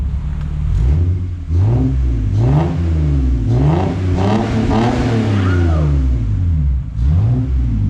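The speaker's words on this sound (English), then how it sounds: "Hey Jeremy, would you be able to hit the gas real quick when you're in neutral or park?" A Lexus GS300 engine in neutral revs repeatedly through its exhaust, several rising and falling throttle blips heard up close and loud, with a faint voice in the background.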